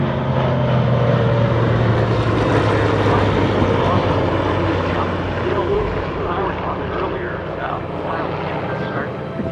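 A rare vintage propeller airplane drones steadily and loudly overhead, its engine rumble gradually easing as it moves off, with people talking faintly beneath it.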